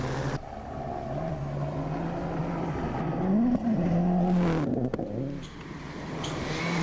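Matthew Wilson's Stobart VK Ford rally car runs a competitive stage in Australia, its engine droning and rising and falling in pitch as it shifts and revs, loud and fairly close, with brief gaps and clatter around the middle.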